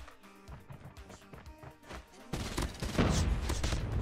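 The Swordfish weapon firing in a video game: quiet, scattered impacts give way to a sudden dense, loud volley of shots that carries on to the end.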